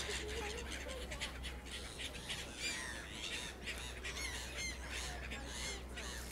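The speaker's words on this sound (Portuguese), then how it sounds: "Gaivotas e pombos, né?" Seagulls and pigeons squawk and call in a busy flock near the Eiffel Tower in Paris, with a steady stream of cries over a low outdoor hum while people talk nearby.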